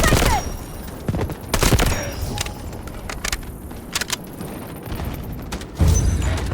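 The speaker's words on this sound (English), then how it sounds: "Artillery barrage incoming." Artillery barrage explosions in the Delta Force video game, a run of loud booming blasts and crackling gunfire-like bursts that come in clusters over steady battlefield noise.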